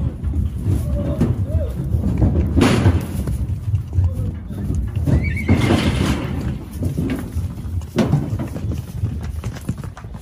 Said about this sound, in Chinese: 毛驴卸车。